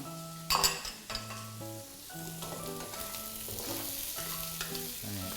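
Shrimp frying in a hot pan sizzle steadily and fairly quietly throughout, with a sharp clink of a utensil against the pan near the start and a few softer taps later.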